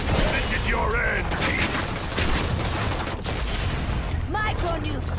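In the game Evolve, a tracking gun fires steadily in rapid, dense bursts amid a loud battle din, with voices speaking over the gunfire.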